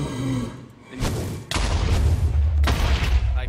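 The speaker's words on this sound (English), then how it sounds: "you have to shoot his fireballs back at him" Heavy booming impacts in a multiplayer video game as fireballs are launched at players, with a couple of loud blasts followed by sustained rumbling explosions, one after another.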